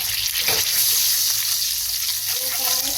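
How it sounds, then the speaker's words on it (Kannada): An egg frying in hot oil gives a loud, steady, close sizzle with a dense hiss that runs the whole time and has no talk over it. "ಫಸ್ಟಿಗೆ ಎಣ್ಣೆಗೆ ಒಂದು ಖಾಲಿ ಮೊಟ್ಟೆಯನ್ನು ಹಾಕಿ ಫ್ರೈ ಮಾಡುತ್ತಿದ್ದೇವೆ"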